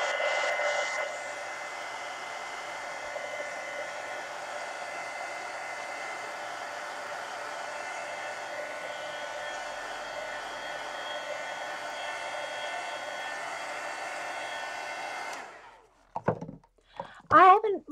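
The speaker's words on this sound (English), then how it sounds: "let me hit this with the heat gun" A heat gun drying marker coloring on a coloring book page gives a steady, close blowing hum for about fifteen seconds, then shuts off, followed by a few soft handling knocks and a brief voice.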